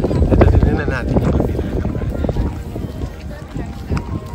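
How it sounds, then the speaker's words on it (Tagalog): Strong wind buffets the microphone outdoors near Lake Kawaguchiko by Mt Fuji, a loud, rumbling, gusty roar that dominates the scene alongside a person talking. "Sobrang lakas ng hangin."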